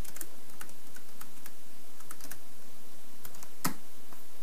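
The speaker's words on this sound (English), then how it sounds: "right now I'm just using the arrows on my keyboard here and just nudging it a bit" Computer keyboard keys pressed one at a time, soft clicks in an irregular rhythm with one sharper tap near the end, close and alone.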